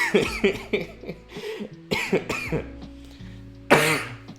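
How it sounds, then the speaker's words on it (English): A person coughs repeatedly in short, harsh bursts, close by, with a final louder cough after a brief pause. "I have a little bit of a cough I'm working through"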